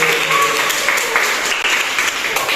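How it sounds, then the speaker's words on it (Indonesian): Audience applause at a teacher professional education session in a classroom, steady dense clapping filling the whole span, loud and continuous with no voices over it. "Kita berikan aplaus kepada Mbak Anis"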